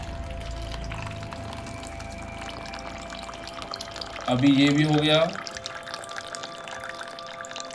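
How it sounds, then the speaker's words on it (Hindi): RO-purified water is poured into a filter jug in a brief gurgling, rising splash lasting about a second, close by, with someone talking before and after. "वही आरओ का पानी इसमें से गुजारा गया"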